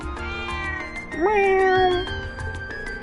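A cat meows once in the Legend of Heroes: Trails of Cold Steel video game. The cry is clear and drawn out and sits over the game's background music.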